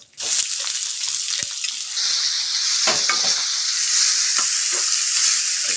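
Loud, close sizzling of chopped onions frying in oil, with stirring scrapes and bursts of hissing that intensify partway through, without speech.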